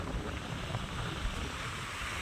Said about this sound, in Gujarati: ઉપરા ઉપરી ભાઈ મોટા મોટા મોજા આવે જ છે.